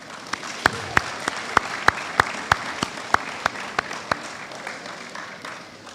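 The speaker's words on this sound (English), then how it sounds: "give them a round of applause" At a high school graduation ceremony, a wash of applause carries a prominent run of sharp, evenly spaced claps from one nearby person, about three per second, fading out toward the end while the crowd clapping continues.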